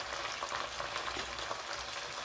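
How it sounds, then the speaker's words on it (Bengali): Onion and chicken pieces fry together in hot oil for a cauliflower chicken curry, a continuous soft crackling sizzle heard close with light stirring underneath. "মাংসটার সঙ্গে পেঁয়াজটা ভাজা হবে"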